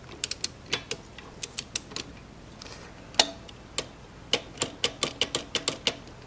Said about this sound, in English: Set your torque wrench to 30 foot-pounds.